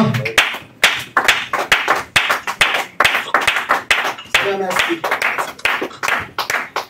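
Congregation at a French-language church service claps in a steady, loud rhythm, sharp hand strikes repeating about every half second, with voices singing or calling along throughout.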